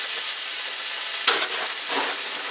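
Steak searing and smoking in a hot cast iron pan, a steady bright sizzling hiss with slight swells, with no talk over it.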